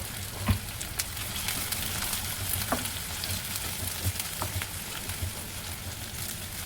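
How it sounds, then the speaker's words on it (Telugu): Chopped onions frying in oil for a plain biryani, a low continuous sizzle with scattered soft clicks and scrapes of stirring throughout, fairly faint and steady. "దాంట్లో కట్ చేసి పెట్టుకున్న ఆనియన్స్ని కూడా యాడ్ చేసుకొని ఒకసారి బాగా మిక్స్ చేసుకున్నాము."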